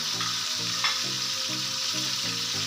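Green chilies hit hot oil in a pan and sizzle steadily, with a soft rhythmic stirring scrape repeating under the constant frying hiss, close and alone without voices.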